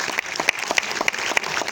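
Audience applause at a live show, a steady wash of clapping hands with a few sharper claps standing out at a regular pace, heard briefly with no voices.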